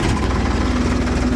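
A Ford tractor engine runs steadily at close range in a farm field, a continuous low rumble with a faint mid-pitched drone and no talk.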